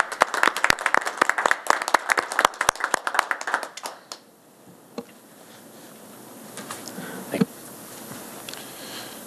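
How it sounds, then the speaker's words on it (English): A small group claps in a council chamber during a common council meeting, with sharp, fairly close claps for about four seconds that then thin out to a few scattered ones over quiet room noise. "I just want to give you an applause for that."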